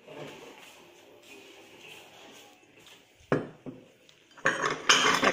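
Ceramic plates clatter and cutlery clinks in a few sharp bursts after a quiet stretch, growing busier toward the end, close and fairly loud, at a restaurant.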